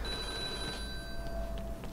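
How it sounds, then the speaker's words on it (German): A telephone rings steadily in The Godfather video game, a faint continuous ringing tone over a dense, noisy game background with no talking. "Ja, das Telefon. Ich weiß ja, warum du klingelst."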